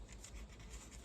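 Scissors cutting through a journal page, a soft, quiet, continuous rasping scrape lasting about a second.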